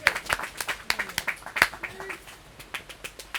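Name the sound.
applause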